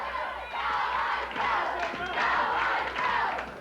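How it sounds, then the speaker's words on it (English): Wrestling fans in an arena cheering and chanting in rhythmic swells, a loud crowd roar with occasional thuds from the ring. "The fans cheering for J.C. Ice"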